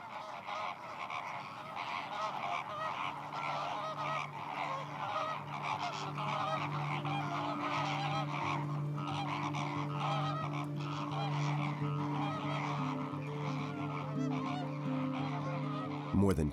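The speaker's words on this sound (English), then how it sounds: "Pink flamingos migrate here from Sardinia, Camargue, and Turkey in order to spend the winter on the ponds on the eastern plains of Corsica." Wintering pink flamingos on Biguglia Pond on Corsica's eastern plains call continuously in a dense, honking, goose-like chorus, loud and close, with no talking over it.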